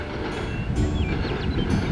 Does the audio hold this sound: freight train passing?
yes